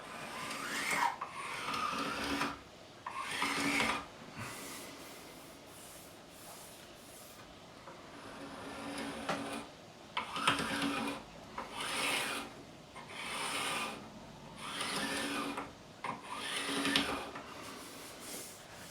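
Sandpaper rasps rhythmically along a wooden guitar neck in repeated back-and-forth strokes, close and fairly loud, pausing between bursts.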